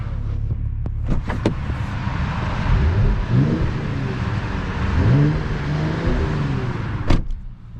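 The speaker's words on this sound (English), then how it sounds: "Let's listen to the sound from the engine." Mercedes-AMG GT 53 4-door coupe, 429 hp, its engine revving up loudly at close range in two or three rising surges over a steady idle rumble, with a few sharp clicks early on.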